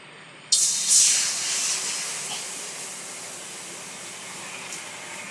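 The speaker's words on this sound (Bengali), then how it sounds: "এবার এই কড়াইতে আমি জল দিয়ে দেবো ডালগুলো সিদ্ধ হওয়ার জন্য।" Water poured into a hot karahi after frying lentils for dal bursts into a loud steamy hiss, then settles into a long, steady sizzle that slowly fades, with no talking.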